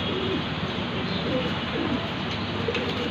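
Soft coos of Punjabi pigeons repeat at intervals under a constant loud background hiss.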